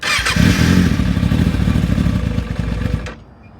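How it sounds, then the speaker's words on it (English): A 2021 Kawasaki ZX6R with its fuel tank drained cranks and sputters loudly up close, a rough churning engine rumble that runs for about three seconds and then cuts out abruptly to near silence. "The bike is in F mode, and I'm gonna try to start it."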